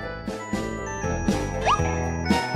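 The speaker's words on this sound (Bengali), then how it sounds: "বলার সঙ্গে সঙ্গেই ফোন, নিশ্চয়ই ওদের কারো ফোনই হবে।" A melodic phone ringtone plays clearly, a tinkling repeated jingle pattern with bright chime notes, close and fairly loud, with no talking.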